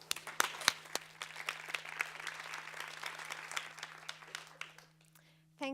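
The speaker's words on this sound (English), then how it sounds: "please welcome Dalia with a round of applause" Audience applause welcoming a speaker to an urban seminar in Malmö: a steady round of clapping from a modest crowd at moderate level, tapering off toward the end before a brief louder sound closes it.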